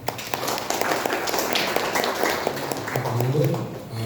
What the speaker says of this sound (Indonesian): Lagi tepuk tangan untuk kita semua.